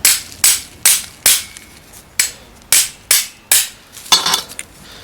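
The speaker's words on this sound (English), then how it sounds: "using a hammer or a suitable whacking device" Sharp metallic hammer blows drive a pin out of a Honda Odyssey sliding-door center-rail roller, about ten in a steady rhythm, each ringing briefly; the last few come faster and messier, close and loud.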